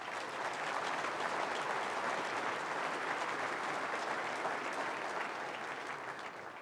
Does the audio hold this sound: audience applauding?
yes